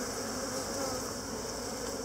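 Honey bees at a hive during a honey harvest, a steady dense hum of many insects buzzing close by with no pauses.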